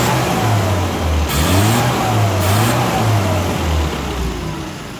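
A tuned Mini car engine revs up and settles a couple of times, its pitch sweeping up and down over a rough, throaty idle, loud and close.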